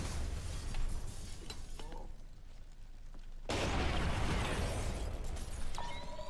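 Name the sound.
explosion in the video game Splinter Cell: Conviction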